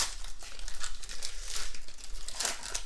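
Basketball trading card pack wrappers are crinkled and torn open close by, a dense run of papery rustles and crackles that swell and fade over a few seconds.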